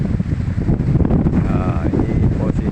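Strong wind in Sampang district battering the microphone outdoors, a loud, constant low roar with gusting surges throughout.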